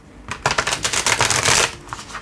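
A thick Light Seers Tarot card deck being shuffled by hand: a close, rapid burst of riffling card flutters lasting about two seconds, then a few softer taps.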